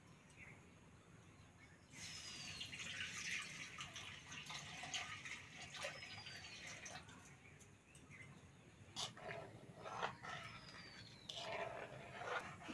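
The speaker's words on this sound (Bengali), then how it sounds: "এবার কড়ার মধ্যে দুধটা দিয়ে দেবো।" Milk pours into a wok in a village kitchen making dudh puli pitha, a soft steady liquid rush that starts after a brief quiet pause, with faint birdsong in the background.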